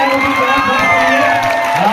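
Audience at a mushaira breaking into loud, sustained applause and cheering, a dense continuous roar of clapping and voices filling the hall.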